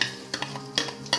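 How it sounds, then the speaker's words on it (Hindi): Garlic ginger paste is stirred into frying onions in a pan, giving a steady sizzle broken by a few sharp scraping spoon strokes close by. "इसके अलावा मैं लहसुन अदरक का पेस्ट डालती हूँ।"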